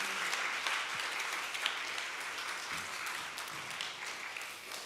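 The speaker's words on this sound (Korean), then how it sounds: "우리 축복의 박수 해주시겠습니다." A church congregation claps in blessing during a Korean Sunday worship service, a steady, fairly soft wash of many hands continuing evenly for several seconds with no talking.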